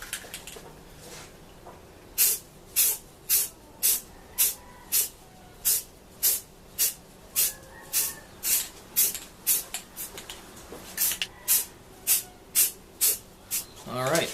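Spray paint base coat going onto an airsoft helmet: a steady series of short, sharp aerosol hisses, roughly one every half second, close and fairly loud over a quiet background.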